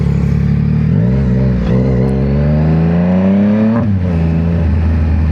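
Victory motorcycle engine pulling smoothly through the gears on a ride, loud and close, its pitch rising steadily, dipping at a shift, then climbing again with no talking.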